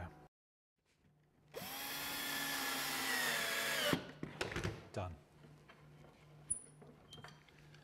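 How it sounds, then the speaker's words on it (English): A power drill drives a screw into a pilot hole in a timber planter, a close whirring run of about two seconds that winds down, followed by quieter clicks and handling noise, with someone speaking nearby. "Take two screws, put them in the pilot holes that we started."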